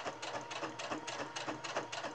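A sewing machine stitches the tie of a half apron, a soft steady rhythmic whirring pulse of needle strokes repeating throughout, fairly quiet and with no talking.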